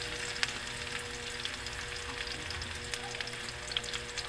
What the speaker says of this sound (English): And now we can put the onion. Just wait till the onion will become color translucent.